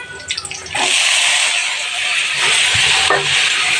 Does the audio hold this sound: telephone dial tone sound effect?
no